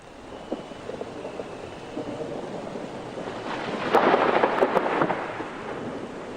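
An approaching thunderstorm brings rising wind, with a soft, rumbling roar that swells and peaks with a louder gusty burst partway through.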